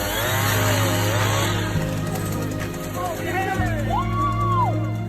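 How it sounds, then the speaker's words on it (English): A chainsaw cuts through locked deer antlers, its engine droning loud and steady with shifting pitch as it bites, while a voice speaks over it. "Just imagine how difficult it was to separate the animals using a chainsaw without"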